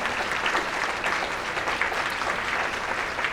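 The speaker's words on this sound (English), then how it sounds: "please stand up so we can give you a round of applause" A round of applause from the audience at a women business leaders forum kickoff, honoring the steering committee, a steady wash of many hands clapping, moderately distant and even.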